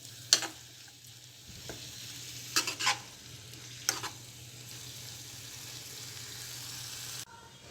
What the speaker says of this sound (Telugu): పాలకూర పచ్చివాసన పోయే వరకు ఫ్రై చేసుకోవాలి.